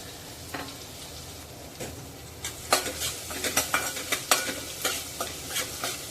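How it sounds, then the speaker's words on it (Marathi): Ginger and garlic frying in hot oil in a pan, a soft steady sizzle with a run of brisk stirring scrapes and clinks of a utensil against the pan, close and moderately loud. "आलं लसूण गुलाबी रंगावर परतून घ्यायचं आहे"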